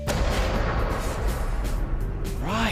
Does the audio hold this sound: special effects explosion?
yes